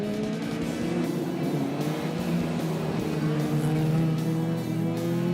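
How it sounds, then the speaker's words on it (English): A big, heavy Ford Fairlane and other race cars lap a circuit through a sequence of bends, engines roaring loudly and continuously with rising and falling pitch as they work through the corners. "just how hard Lindenberg has to work to maneuver the big heavy Fairlane through the sequence of bends"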